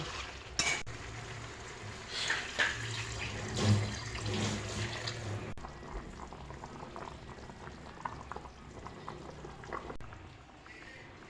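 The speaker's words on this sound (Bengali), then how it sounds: "এখন পরিমাণ মতো জল দিয়ে দেব।" Water poured into a simmering pan of spiced potatoes for a vegetarian potato curry, producing a bubbling, splashing wash that settles into quieter boiling, close up with no talk.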